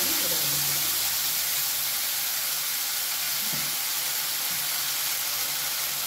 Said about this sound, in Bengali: দিয়ে দিচ্ছি টমেটোর পেস্ট, টমেটো, আদা, ধনের গুঁড়ো